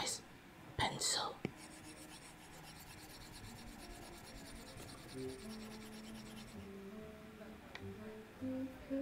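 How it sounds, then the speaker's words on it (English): A pencil rasps and scratches across paper in steady strokes, soft and close in a quiet cafe setting, with occasional faint voices and clinks in the background. "Do you hear my pencil?"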